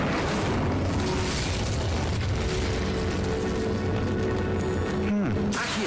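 A loud Incendio fire spell blasts in Hogwarts Legacy, a dense roaring burst of flame and rumble that fills the whole stretch over game ambience.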